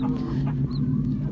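Aseel hen clucking softly among newly hatched chicks, with faint peeping mixed into a steady low murmur of close, continuous fowl sounds.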